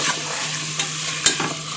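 Onions sizzling in a pan for Maharashtrian masale bhat while being stirred: a close, even frying hiss with a few light scraping knocks from the spoon over a couple of seconds.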